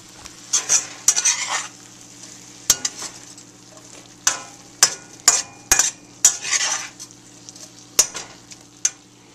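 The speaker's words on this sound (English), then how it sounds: "we're going to let this fry and keep stirring" Sweet peas fry and get stirred in a pan for fried rice, a steady sizzle broken by repeated sharp scrapes and clinks of a utensil against the pan, close and fairly loud with no talking.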